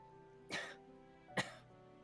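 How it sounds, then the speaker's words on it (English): Two short, soft coughs about a second apart, faint and close, with a quiet background. "her coughing fits are more often"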